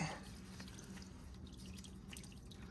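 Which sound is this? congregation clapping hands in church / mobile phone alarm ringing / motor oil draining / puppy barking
motor oil draining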